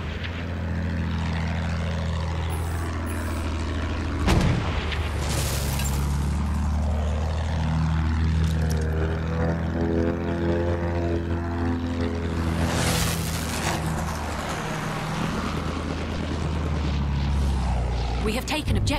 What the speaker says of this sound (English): Enemy plane up there!